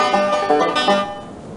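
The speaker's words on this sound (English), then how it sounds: "A banjo." A short plucked banjo phrase from the Clifford Musical Memory Games shell-matching game, a few bright twangy notes ringing out clearly on their own before fading.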